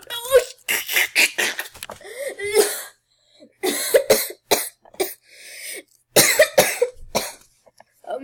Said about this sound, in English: I'm like dying because I'm coughing too much